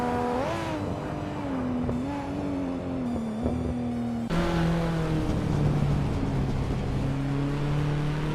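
Race cars, including a 1985 Mazda RX-7 Turbo, roar along the track with a loud, continuous engine drone whose pitch rises and falls as the cars shift and accelerate.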